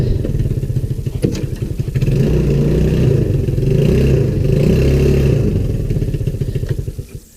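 A 150cc GY6 Hammerhead clone fires up and runs, its small engine loud and close with a rough, rapid putter and some clatter, holding steady before easing off at the end.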